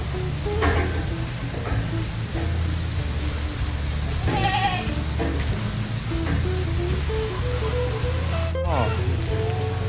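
Goats bleat intermittently at an elephant village among a crowd of farm animals, their wavering calls rising over a constant murmur of visitors talking and general outdoor noise.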